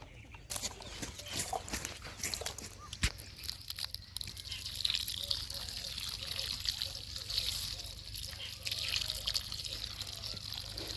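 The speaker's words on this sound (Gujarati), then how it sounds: "આ રીતે પાણી આપી દેવાનું" Water is poured by hand onto a freshly transplanted drumstick (moringa) sapling, making a steady trickling, splashing pour at close range for several seconds, with a faint voice in the background.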